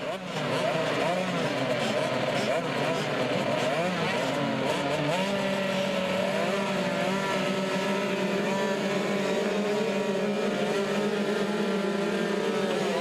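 Several 65cc motocross motorcycles racing at a Thai motocross event, a continuous loud, buzzing engine drone with shifting pitch throughout, heard under steady commentary from an announcer.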